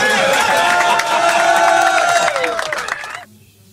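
A crowd cheering and clapping loudly with shouting voices, then cutting off abruptly into near silence.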